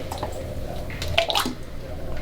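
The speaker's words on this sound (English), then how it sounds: "Let it all drip out." Epoxy resin drips and trickles out of a tipped bucket while a floor is being installed, giving a soft, close, wet splattering sound with a few brighter drips and no talk.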